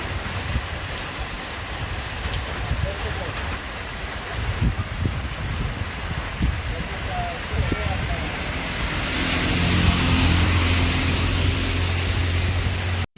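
Steady rain pours down close by beside a shop, a dense hiss of drops hitting surfaces, with a slight swell in intensity toward the end.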